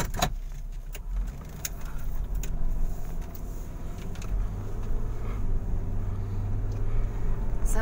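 A Nissan Elgrand 3.5 litre V6 on a test drive makes a steady low engine drone and road rumble inside the cabin, with scattered light clicks and rattles.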